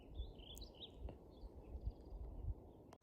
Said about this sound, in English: The only thing you can hear up here are the birds.